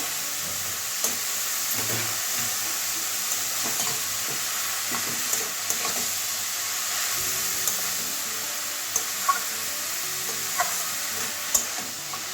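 Papaya and spices stir-fried with a katla fish head hiss in a pan, a soft constant sizzle under scattered scraping strokes of a spatula, fairly quiet and without any voices.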